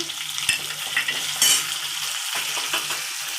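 Chopped onion with bay leaf, green chili and whole spices sizzles steadily in hot oil in a pan, a continuous close frying hiss broken by a few sharp spoon scrapes and stirring clatters, with no talking.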